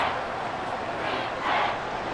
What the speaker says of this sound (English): this crowd doing their best to make a lot of racket